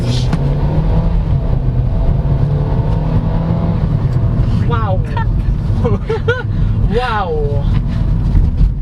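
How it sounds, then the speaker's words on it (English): Inside the cabin, a 2019 Kia Forte LX with automatic transmission accelerates at full throttle in sport mode, its engine giving a loud, steady drone throughout. A voice briefly exclaims over the engine. "let's try sport mode, and then let's floor it"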